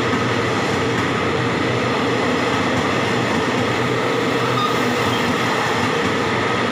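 The Uttrawithi express train in Thailand roars past at close range, a loud, unbroken rumble of wheels and carriages that holds steady throughout with no talk.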